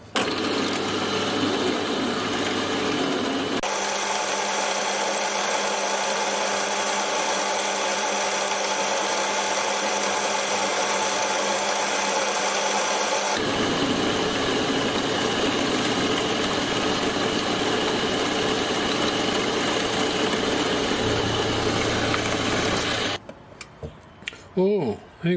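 A small lathe motor hums steadily while a 4.2 mm drill bit grinds into metal for an M5 thread, changing pitch midway, then stopping with a few clunks at the end.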